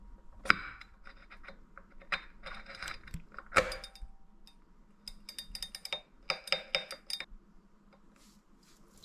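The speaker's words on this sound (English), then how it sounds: "Now simply slide on the new hub and rotate until you feel it engage." A new hub slides onto a Wahoo KICKR Core trainer and is rotated until the pawls engage, with close, sparse metallic clicks and light ratcheting ticks among quiet pauses.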